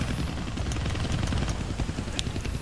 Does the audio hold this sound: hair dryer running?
no